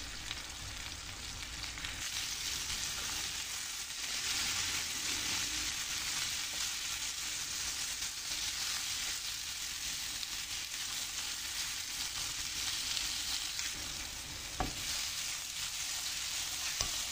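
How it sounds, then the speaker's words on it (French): Zucchini with dried thyme sizzling steadily in olive oil in a pan over high heat, a continuous close frying hiss with occasional stirring scrapes, no voices. "je mets la poêle sur feu élevé en remuant de temps à autre"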